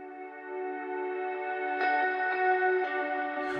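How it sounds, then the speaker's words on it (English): Heavily reverberant drum and bass synth in a production session, with sustained harmonic tones washed in an over-the-top reverb tail. The sound is steady and dense, with swells near the end and no voice. "I'd much rather have a lot of reverb on it, like over the top amount of reverb"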